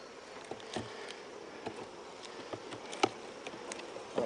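Honeybees buzz steadily at a hive during a September check, a soft continuous drone with individual bees passing close now and then, faint and with no talk.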